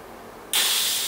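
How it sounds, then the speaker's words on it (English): Air hisses out of a Fox FIT suspension fork valve as the core is pressed, a sudden loud continuous spray that cuts in after a quiet start and keeps hissing steadily. "The next key thing is to remove all the air from the fork"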